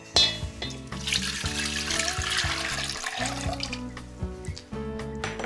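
Water is poured into a cooking pot, a continuous splashing gush over a busy background with rhythmic music playing throughout.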